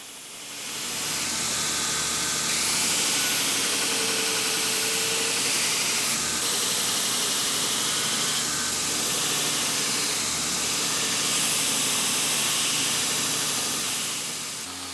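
A belt grinder fitted with a fairly fresh 40 grit belt grinds down a wooden handle for a sloyd carving knife, producing a loud, continuous rushing hiss with a low motor hum underneath.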